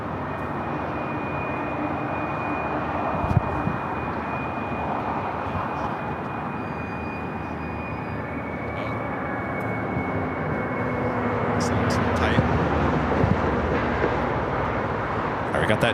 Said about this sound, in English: We got that Dreamliner now rocking and rolling down 25 right.